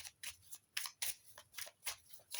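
Oracle cards being shuffled by hand: about ten crisp, papery bursts in a quick, uneven rhythm, close and fairly loud, with no voices.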